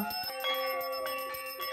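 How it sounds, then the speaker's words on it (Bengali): Brass gong and hand bells ring together during a Saraswati puja aarti, a bright, dense metallic clangor of steady rapid strikes that sustains loudly and close throughout, with no talking. "কেউ কাঁসর, কেউ ঘণ্টা"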